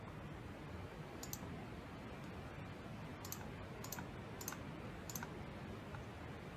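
Computer mouse clicks on a search button: about five short, light clicks spread over a few seconds, sitting above a steady background hiss.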